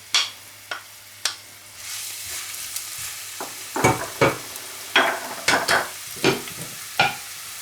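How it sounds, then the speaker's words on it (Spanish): Half an onion, chopped, is sautéed in a pan for a scallop dish: a soft sizzle under repeated sharp scraping strokes of a utensil, growing busier toward the end. "La cebolla tiene que ir bien cocinada, bien hechita"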